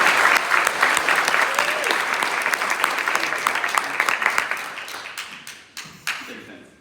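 Applause from a school sports assembly audience honoring runner Alyssa Strand, a dense, steady clapping roar that thins into scattered individual claps toward the end.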